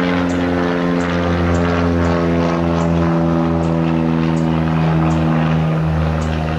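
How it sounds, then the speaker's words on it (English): A small propeller airplane flies overhead about a mile from a small airport, its steady droning engine loud and close throughout with a rhythmic pulsing beat, no talking. "And here comes our airplane over."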